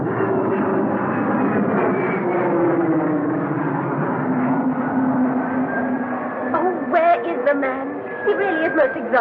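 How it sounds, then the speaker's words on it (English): A plane for Tanzania idles on an airport tarmac in an old-time radio drama, its engine drone rising and falling steadily throughout as voices talk over it. "But that's the plane for Tanzania standing on the tarmac now."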